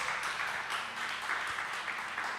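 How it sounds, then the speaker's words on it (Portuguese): A church congregation applauds in a steady wash of clapping for the whole stretch, moderately distant and even, with faint voices mixed underneath. "Você pode aplaudir o Senhor."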